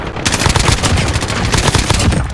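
Rapid shotgun gunfire in a video game survival mode, a dense, loud burst of overlapping shots with no pauses, heard alone.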